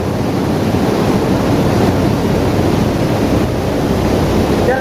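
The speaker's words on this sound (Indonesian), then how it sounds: "Sementara 8 blower menyala ini kita biarkan dulu" Eight ventilation blower fans run together in a 100 by 12 metre chicken house. They make a loud, steady, rushing roar, like strong wind, that fills the space without pause.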